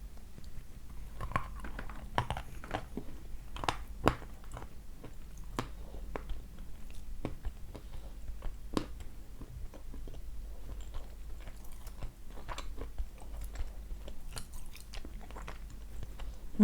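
Orsk chalk being bitten and chewed close up, a steady run of crisp crunches and small cracks with a slight squeak, no talking.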